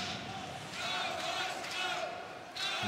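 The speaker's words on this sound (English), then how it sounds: "And finally, some noise from the Melbourne Eyes crowd." Melbourne Ice fans make steady crowd noise and rising cheers at an AIHL ice hockey game against CBR Brave, with a commentator talking over them throughout.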